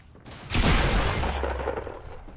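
A single loud gunshot boom in the video game Fortnite, a sharp burst followed by a long rumbling tail that fades over about two seconds.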